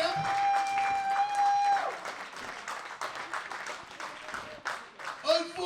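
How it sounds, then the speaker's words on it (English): Audience applauding at a live wrestling show, a steady wash of clapping with some crowd noise and a sustained whistle-like tone early on, with a voice talking over the crowd. "These guys a round of applause."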